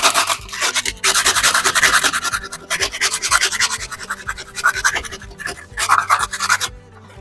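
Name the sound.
scraping grit off a wall with a scraper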